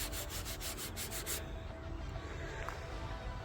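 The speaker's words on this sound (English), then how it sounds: "this front wing that used to feel and sound like sandpaper" A hand rubs over the rough, sandpaper-like painted surface of a car's front wing, first in quick rhythmic strokes and then as a continuous close, hissy scrape.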